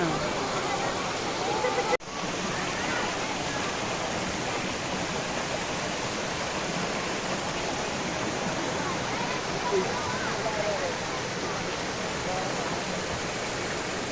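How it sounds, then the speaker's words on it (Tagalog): Steady broadband rush of the Falls of Asia waterfall in Baler, a constant roar of falling water heard up close and filling the whole scene, with one sharp bump partway through. "Here's the falls. Falls of Asia."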